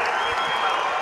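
A crowd at a high school basketball state championship game fills the space with a dense, loud wash of applause and cheering throughout.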